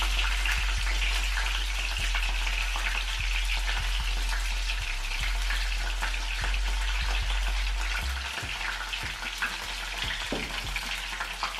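Garlic, green chillies and tomato fry in plenty of oil, a continuous close sizzle and crackle with occasional stirring scrapes and a low background hum.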